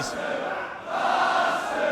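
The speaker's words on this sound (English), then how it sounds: "you hear what the crowd are calling him" Wrestling crowd at a Defiant Loaded event chanting at PAC during his match with David Starr, a loud, continuous roar of many voices filling the arena with a steady rhythmic swell.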